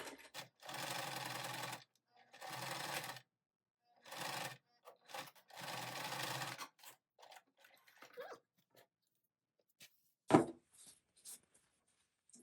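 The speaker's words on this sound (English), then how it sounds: "I'm just going to top stitch along the top to close it in" Sewing machine runs in several close, steady bursts as fabric is top stitched, each run humming for a second or so with pauses between, followed by quieter handling noises and a sharp knock.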